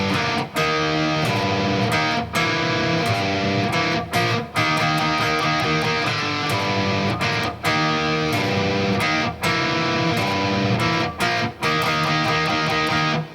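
Electric guitar plays the chorus riff of a song in standard tuning, loud chugging chords with rhythmic stops and repeated short breaks throughout.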